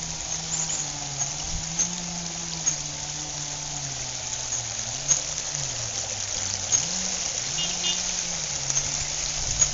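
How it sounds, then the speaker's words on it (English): Water flows steadily from a new garden fountain beside a koi pond, a soft continuous trickle heard alone with a low wavering hum running beneath it throughout. "I can show you the new fountain, which I think looks really great."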